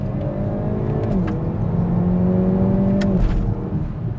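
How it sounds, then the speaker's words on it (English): A 2023 Hyundai i30 N Drive N limited edition accelerates hard after a downshift, its engine note rising steadily, briefly dipping at a gear change, then climbing again, loud and close from inside the cabin. "Bang it down a few gears, we'll give you some acceleration now."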